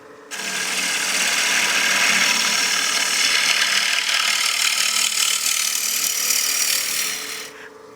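A wood lathe turns a cake stand while a tool cuts into the spinning wood. It makes a loud, continuous, hissing scrape that starts abruptly and stops about seven seconds later.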